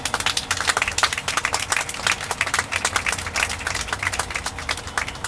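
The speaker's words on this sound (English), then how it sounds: "Let us give His Excellency a round of applause." A crowd claps for His Excellency at a Sierra Leone citizenship ceremony, brisk and dense applause from many hands, loud and sustained from start to finish with no speech.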